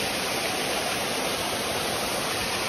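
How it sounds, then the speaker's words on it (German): A waterfall in a wadi in Oman roars as a dense, steady broadband rush, close and continuous with no other sounds. "hier ist der Wasserfall"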